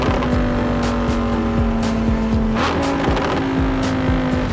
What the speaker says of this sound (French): Parce que ce V10, il chante tellement bien qu'il faut le mettre en avant sur la vidéo de notre test drive.